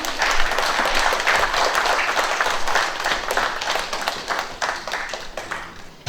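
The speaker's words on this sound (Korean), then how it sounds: "큰 박수 부탁드리겠습니다." Applause from a symposium audience welcoming four guests to the stage, a dense, steady wash of clapping that stays close and fairly loud, then slowly thins and fades toward the end with no voices over it.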